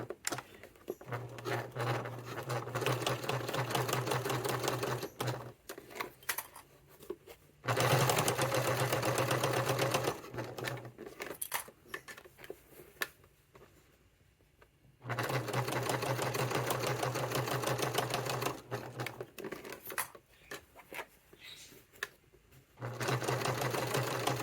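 A sewing machine back stitching a satchel runs in long steady buzzing bursts, stopping and starting several times with short pauses between runs.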